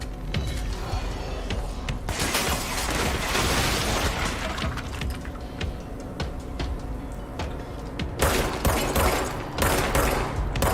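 Continuous gunfire in the video game Control: dense, loud rapid shots and impacts that fill the whole stretch, with sharper bursts toward the end and no clear talk.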